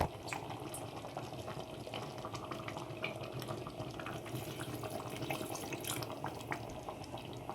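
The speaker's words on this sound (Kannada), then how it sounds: "ಇಲ್ಲಿ ನಾನು 3 ಗ್ಲಾಸ್ ಅಷ್ಟು ನೀರನ್ನ ಆ್ಯಡ್ ಮಾಡ್ತಾ ಇದ್ದೀನಿ" Water poured from glasses into a pot of mutton sambar makes a steady, continuous splashing rush that holds at an even level for several seconds, with no voices.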